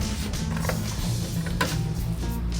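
An old wooden dresser drawer with dovetail joints is pulled open in a secondhand furniture store, giving close, dry creaks and rubbing wood-on-wood scrapes with small irregular clicks throughout.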